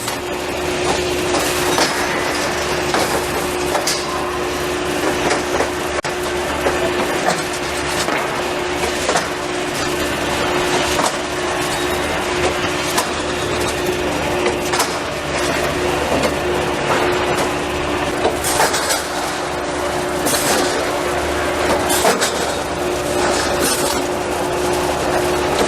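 An RT100 clamping machine running a full retightening of its clamps at full pressure, a steady loud mechanical rumble with a constant hum and irregular rattling clicks throughout; no talk.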